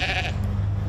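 A sheep grazing weeds as a natural weed eater, one short loud bleat close by at the start, followed by low steady rumbling background noise.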